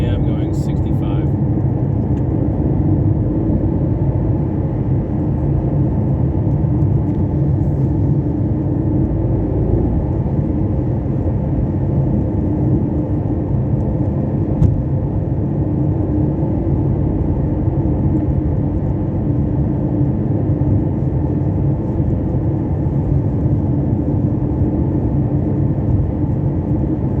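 Inside a 2014 Porsche Panamera Turbo twin-turbo cruising in fourth gear at 3,200 RPM and 65 mph, a steady, loud engine and road drone holds evenly from start to finish.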